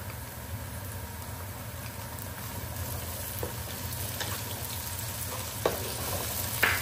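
Onion, garlic, ginger and green chili paste fry in a karahi with a steady, close sizzle and crackle, plus a few stirring scrapes and knocks near the end.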